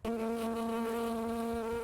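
Honey bees buzz steadily around almond trees in a California orchard, a close, continuous, loud drone with a strong tonal hum and no voices.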